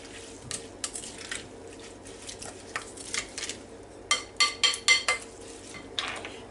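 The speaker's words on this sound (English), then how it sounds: "Now let's just get this all stirred up." A utensil stirs cucumber salad seasoning with black pepper in a bowl, making light scraping and scattered taps that build into a quick run of sharper clinks against the bowl, close and quiet with no talking.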